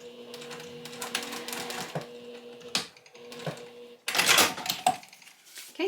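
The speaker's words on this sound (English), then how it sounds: "I'm just going to sew like I typically would sew a zipper tab 1/8 of an inch away." A sewing machine stitches a zipper tab onto a fabric pouch about an eighth of an inch from the edge, its close, rapid mechanical clatter running in bursts with short pauses between.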